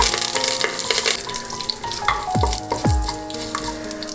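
Urad dal, two dried red chillies and curry leaves sizzle and crackle in hot oil for broken wheat uppuma, with a steady frying hiss and a couple of sharp pops as the mixture is stirred.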